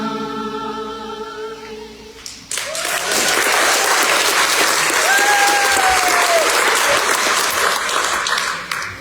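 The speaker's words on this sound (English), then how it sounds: "And now we want to also give another round of applause to the kiddos." A variety show audience at an anniversary event bursts into loud, sustained applause that swells and holds for several seconds, with a faint voice over it, after a quieter musical passage at the start.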